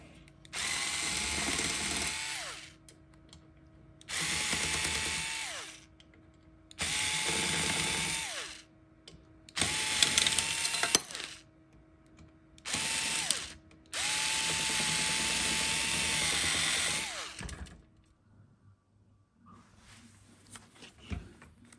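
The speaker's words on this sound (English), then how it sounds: "Back with the Phillips driver here" A power driver with a Phillips bit backs screws out of a 3D printer during a teardown, sounding as six separate whirring bursts of about two seconds each. The last burst runs longest, and short quiet gaps fall between them.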